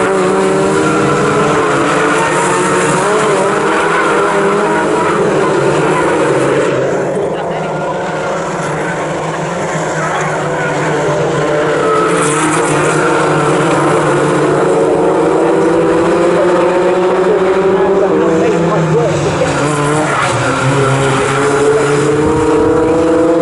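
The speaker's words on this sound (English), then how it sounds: "y Phillips had a good run in the slipstream, pulled to the right hand side of the road there to try and take 3rd place away from the track focused car of Sean Cooper." Fun Cup race cars at Snetterton roar past in a continuous loud pack, engines droning and shifting pitch as they race, with a commentator talking over the noise throughout.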